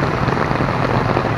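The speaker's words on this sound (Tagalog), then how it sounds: "Sobrang lakas ng ulan." Heavy storm rain roars as a dense, constant wash of noise, loud and close, with no breaks and no talking.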